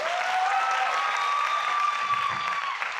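A large corporate event crowd claps loudly for a partner company, a continuous roar of applause with a thin sustained whistle-like tone running above it throughout.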